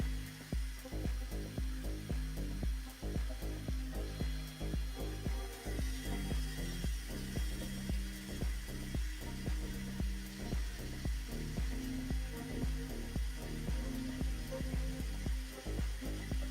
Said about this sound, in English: I'm using this drill to spin much faster than me.